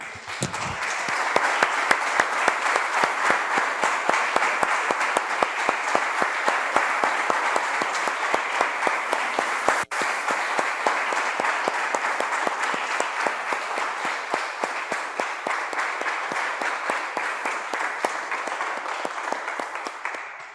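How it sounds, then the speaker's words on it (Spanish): Steady, continuous applause from a church congregation, even and unbroken throughout, with no voices standing out. "Damos un aplauso, hermanos, al Señor."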